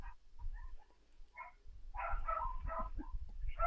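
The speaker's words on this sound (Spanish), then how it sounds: "ladrando el perrito" A small dog barks a few times, yipping and whimpering at moderate distance, with short irregular bursts that grow busier toward the end.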